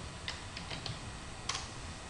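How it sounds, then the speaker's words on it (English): Keys on a computer keyboard tap in a few light, scattered strokes over a steady background hiss, fairly faint and close. "for my hierarchy I'm going to type calendar"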